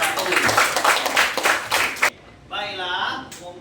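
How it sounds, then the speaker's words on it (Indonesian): Brief burst of clapping from a class of students for a group in a classroom, loud and close for about two seconds, then fading into quieter room noise. "Tepuk tangan untuk kelompok 1"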